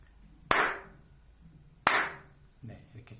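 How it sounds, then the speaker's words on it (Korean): Two sharp, loud hand claps about a second and a half apart, each ringing briefly in a quiet room during a sound-sensor demonstration, followed by faint talking. "박수를 한번 쳐보겠습니다"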